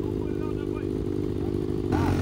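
A Yamaha Raptor 350 quad fitted with a 600cc motorcycle engine drones loud and close at a steady rumbling pitch, rising slightly near the end, while people talk excitedly over it.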